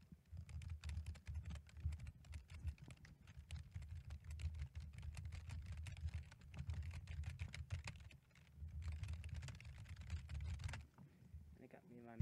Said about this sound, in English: Got me my keyboard.